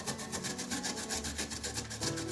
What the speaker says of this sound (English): I can just cover it up and work on grating the vegetable.